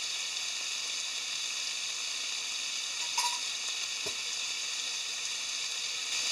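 Slices of pork fry in a pan for a Hokkaido-style butadon, giving a steady, even sizzle with a couple of brief clinks or shifts partway through, and no voices.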